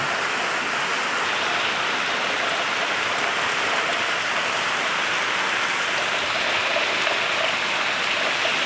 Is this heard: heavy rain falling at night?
yes